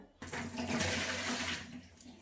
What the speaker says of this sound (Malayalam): അപ്പോൾ ഈ കഞ്ഞിവെള്ളം ഞാൻ ചരിച്ച് ഊറ്റി കളയുകയാണ്.